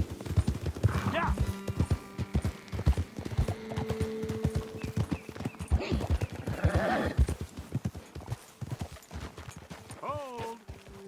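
Horses gallop in Red Dead Redemption 2: a rapid, steady clip-clop of hooves runs throughout, close and loud, with a whinny near the end and some talk mixed in.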